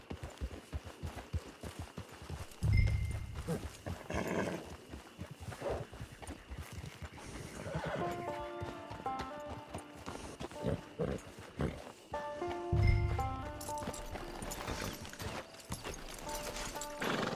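Hooves clip-clop steadily beside a horse's snorts and a couple of whinnies in Red Dead Redemption 2 Online, with soft game music and rustling in the background.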